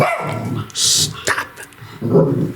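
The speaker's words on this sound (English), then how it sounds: "Alright, that's the dog." A dog barks indoors, a few sharp close barks with a whimpering growl between them, while a person speaks briefly over the noise.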